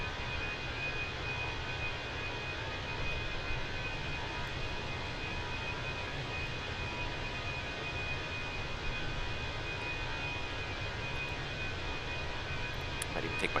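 Engine noise from an Airbus A320 in a flight simulator, heard from the front cabin: a steady, loud grinding drone holds unbroken throughout, with no other sounds rising above it.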